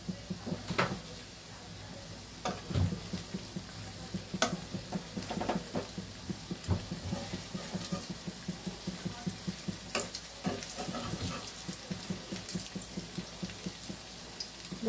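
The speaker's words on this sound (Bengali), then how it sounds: "বড়াগুলো একটু ভালো করে ভাজা হলে আমি আস্তে আস্তে বড়াগুলো তুলে নেব" Red lentil fritters fry in hot oil, giving a steady close sizzle with repeated clicks and scrapes of a utensil stirring and turning them throughout, no one speaking.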